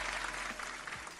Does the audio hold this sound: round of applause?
yes